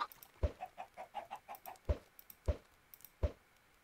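Minecraft chickens cluck in the video game, giving a quick run of soft, even, pitched clucks followed by a few sharper clicking pops, faint and with no talk.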